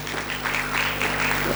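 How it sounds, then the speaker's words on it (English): Steady audience applause at a school annual day celebration, a dense continuous patter of many hands clapping at moderate level with no talk over it. "Audience, keep clapping."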